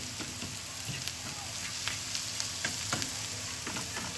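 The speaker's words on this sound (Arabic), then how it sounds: "ننزل بفصين توم، برضه ناخد تقليبتين" Garlic cloves frying in a pan where onions were just cooked give a steady, close, crackling sizzle, broken now and then by the scrape and clatter of stirring.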